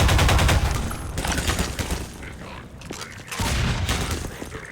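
Gunfire in the video game Half-Life 2: Lost Coast, a rapid burst of loud, punchy shots followed by scattered further reports and clanks, with game sounds filling the gaps.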